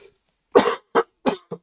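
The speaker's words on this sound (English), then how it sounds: "Pardon me for the coughing." A single person coughs four times in quick succession after a brief silence, close and fairly loud, with short dry bursts.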